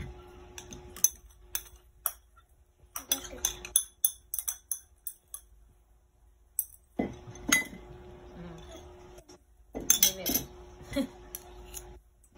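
Macaroni salad is mixed in a bowl with a utensil, giving bursts of close clinks and scrapes that stop and start again, with people talking in between.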